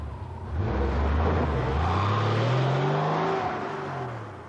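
A car engine revs up close with a loud, rising whine, holds high, then eases off slightly as it fades.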